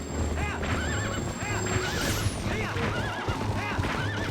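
A horse neighs repeatedly with rising whinnies in Zelda: Twilight Princess, over steady clip-clopping hooves and game music, loud and continuous.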